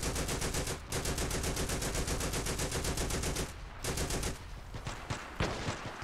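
An automatic gun fitted with a red dot sight fires in a sandbox shooter game in fast, loud, sustained bursts, then stops for a moment before a few scattered shots.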